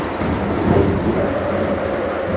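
Heavy rain pours down while a deep rumble of thunder rolls through, loud and close, with no voices.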